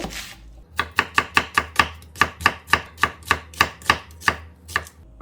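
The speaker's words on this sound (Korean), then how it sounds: "쭈꾸미 볶음에 들어갈 이런 제 재료 썰어 보겠습니다. 양파 한 개입니다." About fifteen crisp knife strokes chop a medium onion on a cutting board for spicy stir-fried webfoot octopus, the steady rhythm close and loud with no talking.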